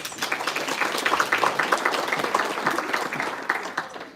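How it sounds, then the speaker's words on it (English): A crowd at a volleyball banquet applauds steadily with dense, continuous clapping that holds at a lively level throughout before easing slightly at the end. "Let's give a big round of applause for our parents."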